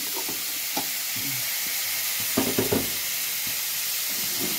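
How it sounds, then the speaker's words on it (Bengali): Masala being sautéed in a pan over a lowered flame for a Lakshmi Puja bhog: a steady broadband sizzle runs throughout, with brief stirring scrapes near the middle, no voices. "এভাবে আঁচটা কমিয়ে দিয়ে একটু মশলা দিয়ে কষতে থাকছি"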